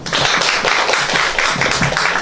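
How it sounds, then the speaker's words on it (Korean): Sustained audience applause at a policy forum after a lecture, dense, loud and continuous clapping from a large crowd filling the room throughout. "다시 한번 큰 박수 부탁드리겠습니다"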